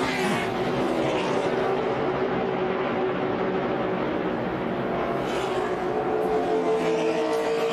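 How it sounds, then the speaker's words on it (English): A 2009 NASCAR Nationwide Series race car roars loudly and continuously with other engines, a dense steady racing drone that carries no distinct impact. "Car gets out of shape and then just pirouettes on its left side and goes over."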